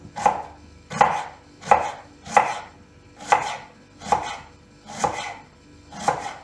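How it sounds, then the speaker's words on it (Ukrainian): Knife chopping cabbage into thin strips for a winter cabbage and cucumber salad, eight evenly spaced, firm cuts on a board at a steady rhythm, close and clear with no talking. "будемо нарізати її соломо"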